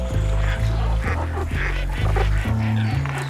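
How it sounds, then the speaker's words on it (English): Mallard ducks, drakes and hens in courtship season, give a series of close, loud quacks in a steady rhythm of about one call every half second, with nasal harmonic calls repeating over a dense outdoor background and no talk. "Here come the kings of courtship display, the mallard ducks."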